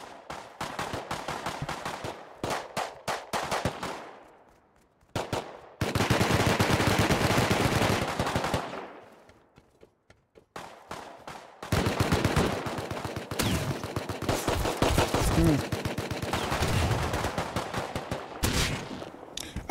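Repeated gunfire from the video game Rust, loud and close, coming in dense rapid bursts across two long stretches split by a short lull, with scattered single shots in between.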